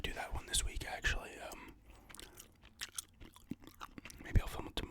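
Close, soft gum chewing with wet smacks runs under a whispering voice, the mouth sounds clicking and popping intermittently throughout.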